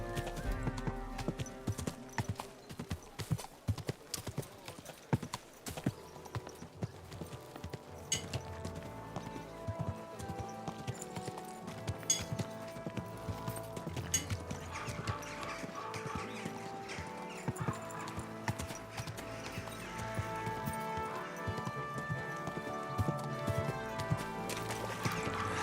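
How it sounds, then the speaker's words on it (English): Steady clip-clop of horse hooves trotting along under a bed of game music in Kingdom Come: Deliverance 2, continuous and fairly loud throughout, with no talking. "Easy, good horse."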